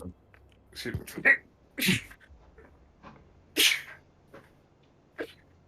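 Several sharp sneezes burst out at close range during a tabletop role-playing game session, spaced unevenly with a few quieter breaths and murmurs between them.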